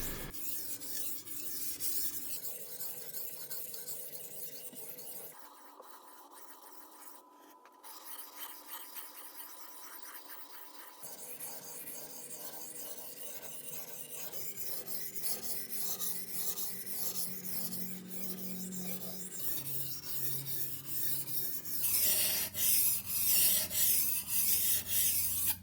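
A Shun chef's knife is sharpened on waterstones in quiet, repeated rubbing and rasping strokes of steel on stone, close and soft, with short pauses between passes and a brisker scraping run near the end.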